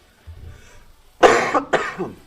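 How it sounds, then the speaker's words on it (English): Two harsh coughs in quick succession, close and loud, following a brief quiet low rumble. "I do apologize for the coughing"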